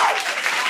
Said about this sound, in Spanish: al que le damos unos fuertes aplausos y una bienvenida